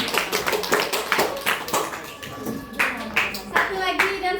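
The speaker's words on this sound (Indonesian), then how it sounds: "beri tepuk tangan ke temannya." Classmates in a classroom give a round of hand clapping for a fellow student, a scattered patter of claps that swells and fades over a few seconds, with children's voices mixed in.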